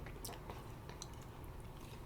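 Wet, squishy chewing and biting on Italian food, close to the mic, with soft crunchy clicks scattered through steady low room noise, no talking.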